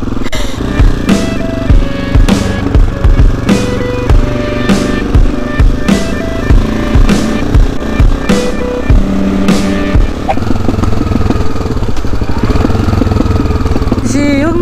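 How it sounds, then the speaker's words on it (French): Motorcycle engine idling with the idle speed slightly raised, a loud close rumble punctuated through most of its length by irregular sharp backfire pops and crackles, which thin out toward the end. "J'ai augmenté un petit peu le ralenti et elle refait les pétarades"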